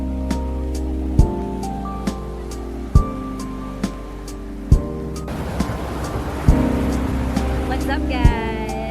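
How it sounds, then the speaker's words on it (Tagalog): Strong ocean surf rolls onto a beach in La Union, a broad wash of crashing water rising in the second half beneath louder rhythmic music with steady beats. "Malalakas yung alon pero ang saya."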